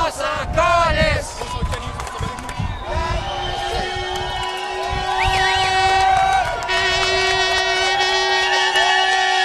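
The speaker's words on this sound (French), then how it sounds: "Les gens dans leur voiture, klaxonnant en appui" Car horns honk repeatedly from drivers supporting a street protest, sustained tones layered over crowd noise and some talking, with a loud, steady outdoor din throughout.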